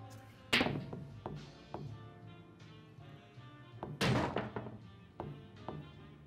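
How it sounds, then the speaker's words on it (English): Billiard balls in the Yakuza 0 video game knock together in a combination shot: a sharp cue strike, then a string of clacks and knocks over a few seconds, with a second loud burst of collisions near the end. "I could try. Combination shot."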